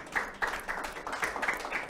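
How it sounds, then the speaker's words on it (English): A small audience claps for a calypso singer and her French Grammy, with fairly soft, uneven claps rising and falling close by. "And a round of applause for that, ladies and gentlemen."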